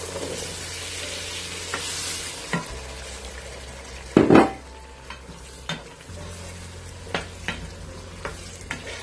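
Boiled chickpeas drop into a hot, sizzling pan, a sharp burst of frying noise near the middle rising over a steady background sizzle, followed by scattered light clinks and stirring scrapes.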